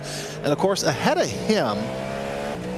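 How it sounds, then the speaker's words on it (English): A Cadillac V8 prototype race car in a racing video game revs hard through the gears with rising and falling engine notes, a few quick downshifts and a squeal, while a commentator talks over it. "Oh, listen to that V8 grunt out of the pure American machinery."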